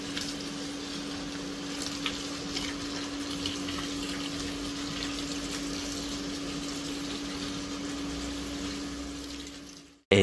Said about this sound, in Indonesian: Diisi air terlebih dahulu ya.